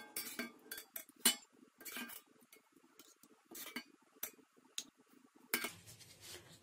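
Glass jars being filled and handled, a series of sharp close clinks and light knocks at an uneven pace over quiet, with a soft rustle near the end.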